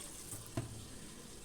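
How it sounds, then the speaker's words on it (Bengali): Cold water poured briefly over cooked soybeans, a short splashing pour with a single clear splash amid steady running-water hiss. "এর মধ্যে আমি একটু ঠান্ডা জল দিয়ে দেবো"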